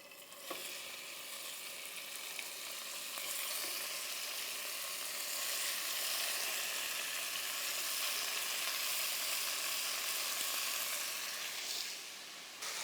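Beef sizzles steadily in a hot pan, a broadband hiss that swells and holds at a constant level after the meat goes in, with a few small clatters near the start and end.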